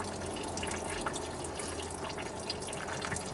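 Water runs steadily and continuously during camshaft installation work on a 1986 Chevy K10, a close, even wash of flowing liquid with no breaks.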